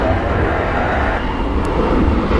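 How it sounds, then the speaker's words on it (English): A Boeing 737 airliner taxis to its gate at Dallas Fort Worth airport, producing a loud, steady broadband engine roar with a constant rush of noise throughout. "737s taxiing over to its gate just came in a couple of minutes ago."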